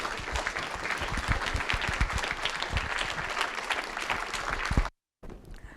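A lecture audience applauding a distinguished speaker: sustained, fairly close clapping from a sizeable room that stops abruptly, followed by brief quiet room tone.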